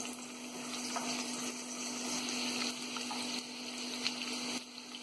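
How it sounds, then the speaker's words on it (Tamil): Ginger sautéing in hot oil over a high flame for veg fried rice, a steady close sizzle and crackle with faint stirring, continuous and even with no talk. "இஞ்சி போட்டு நல்லா ஹை ஃப்ளேமில் வதக்கிக்கலாம்"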